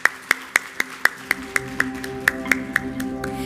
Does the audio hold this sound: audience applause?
yes